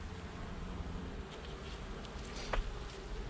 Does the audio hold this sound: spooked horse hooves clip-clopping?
no